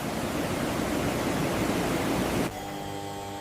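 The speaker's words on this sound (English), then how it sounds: "Powerful washing systems remove dirt and impurities using high-pressure water" High-pressure water jets wash banana leaves in an industrial processing line, a loud, steady hiss and rush of spraying water that cuts abruptly to a quieter mechanical hum with tonal whine near the end.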